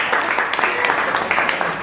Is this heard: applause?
yes